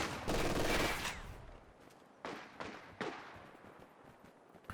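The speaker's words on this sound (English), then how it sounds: "gets suppressed by the machine gun before they manage to make it in." Machine gun fire in the strategy video game Company of Heroes 2: a loud sustained burst of rapid automatic shots at the start, followed by two sharper, shorter bursts later with quieter battlefield noise in between.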